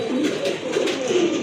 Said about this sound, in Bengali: এগুলো হচ্ছে আপনার ব্ল্যাক বোম্বাই কবুতর, খুবই অ্যাক্টিভ কবুতর মাশাআল্লাহ। সাথে সাথে কিন্তু ডাকাডাকি শুরু করে দিয়েছে।